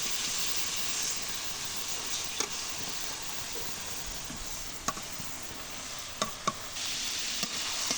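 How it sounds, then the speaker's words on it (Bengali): Fish pieces taken from the fridge are stirred while cooking in a pan, producing a loud, continuous sizzle with occasional sharp scrapes and taps of the spatula. "আমি সুন্দর করে লড়া দিচ্ছি গলুক মাছগুলো"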